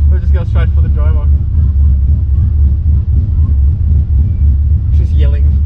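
Loud, steady low rumble of an idling HSV Maloo engine fills the whole stretch, with people talking close by over it.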